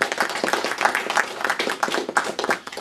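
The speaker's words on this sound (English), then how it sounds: "I'd like a round of applause for everyone on the executive." An audience at a Liberal Democrats annual general meeting in Nottingham claps for the executive committee, a dense ripple of many hands applauding steadily and moderately loud throughout.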